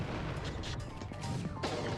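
A pod bomb explodes in the Custom Robo video game as a burst of crashing, blasting noise, backed by a steady rumble and broken up by several sharp hits across two seconds.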